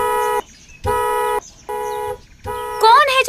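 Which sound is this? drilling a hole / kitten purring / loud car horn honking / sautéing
loud car horn honking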